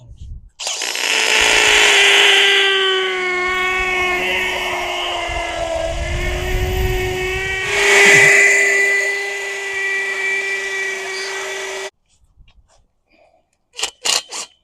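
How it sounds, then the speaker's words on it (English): Power drill whining at a high, steady pitch for about eleven seconds with a brief surge midway, then cutting off, followed by a few short clanks and knocks. "Now start drilling"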